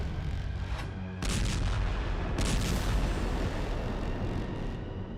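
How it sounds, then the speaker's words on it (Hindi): Heavy blasts from a Chinese military test at sea on an island, sounding as deep, rumbling booms that burst out twice in quick succession over a continuous low roar. "पहली बार समंदर के आइलैंड पर भीषण धमाका किया गया।"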